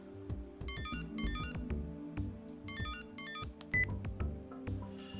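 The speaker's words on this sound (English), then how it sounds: "Then the phone rang." A phone ringing in the CHAOS;CHILD video game, repeated electronic ring bursts over background game music and sound effects.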